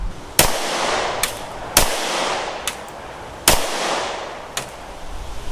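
Gunshots from a Smith & Wesson M&P 5.7 pistol fitted with a Holosun 407K sight, six sharp cracks at uneven spacing, three loud and three softer, each ringing out briefly with no talking.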